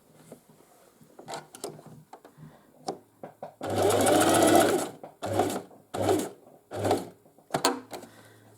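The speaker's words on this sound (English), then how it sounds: "here is where I will place my machine seam. And I will begin with a straight forward stitch" A sewing machine runs a straight stitch along a seam on knitted fabric in loud close bursts, one long run followed by several shorter ones separated by brief pauses, with light handling noises between them and no speech.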